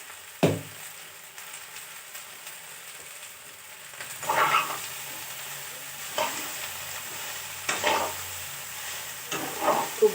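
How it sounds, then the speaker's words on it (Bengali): Chalta pickle with turmeric and salt stirred in a frying pan: a sharp knock at the start, then a soft sizzle with repeated bursts of scraping spatula strokes every couple of seconds, close and alone. "হলুদ নুন দিয়ে নাড়াচাড়া করবো খুব সুন্দর করে।"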